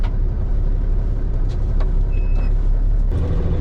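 A gravel-hauling truck called Petey runs with a loud, continuous low engine drone close by, steady throughout with a few faint higher clicks and squeaks on top.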